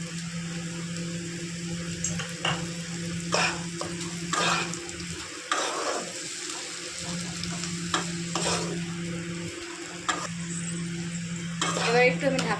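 Onion and tomato sizzle steadily in a hot pan for a spicy fish curry while a utensil stirs and scrapes in intermittent strokes, close and moderately loud, with a brief lull in the frying midway.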